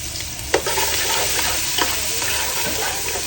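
Garlic fries in hot oil with a loud, dense, continuous sizzle, close up, punctuated by a few utensil scrapes as it is stirred, no voices.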